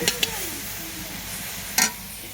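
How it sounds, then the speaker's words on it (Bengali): Mustard being fried in a pan over an outdoor stove, with a steady low sizzle throughout and two sharp scraping stirs of a utensil against the pan, one near the start and one later. "সরষটা ভাজা ভাইজা কিন্তু কতটুকু হয়ে গেছে"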